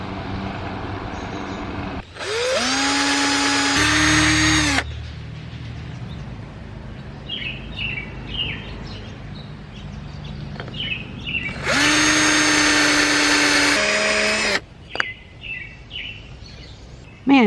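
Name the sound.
power drill drilling through wood of hibachi grill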